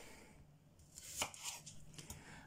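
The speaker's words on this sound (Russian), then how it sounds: "я успеваю нарезать лук, нарезать грибы и картофель" Knife chopping potatoes, onion and mushrooms on a board at home while barley soup simmers, a few quiet close cuts with soft irregular taps and no talking.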